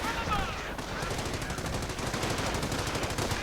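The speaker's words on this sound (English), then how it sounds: "Hand machine gun firing." A machine gun fires rapid, steady bursts of close, loud shots throughout a strategy video game battle, with other game sounds blended underneath.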